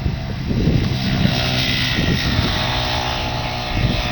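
A small Craftsman garden tractor engine on a homemade crawler conversion runs at a steady, buzzing drone with a light, moped-like rasp, heard close and alone at moderate level.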